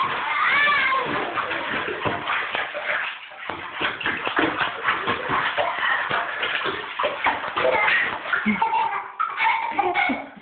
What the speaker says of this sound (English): You making waves in the bathtub?